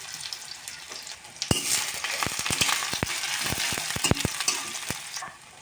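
Oil and garlic paste sizzle hard in a kadai for a vegetarian cauliflower, spinach and potato curry, a steady close crackle broken by sharp clacks of a stirring spoon against the pan.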